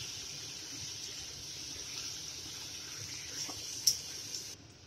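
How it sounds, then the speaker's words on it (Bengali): Water pours from a vessel into a pot of chicken marinated with spices, cumin powder, yogurt, kewra water and rose water, making a faint, steady trickling splash that stops abruptly near the end. "এবার মশলা ম্যারিনেট করে এই জলটা আমি দিয়ে দেবো এর মধ্যে"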